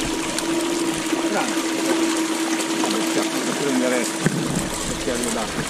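Water pouring out of the end of a gold prospectors' sluice on a Ticino stream, a steady close rushing and splashing flow with a constant hum, running without pause while voices talk over it.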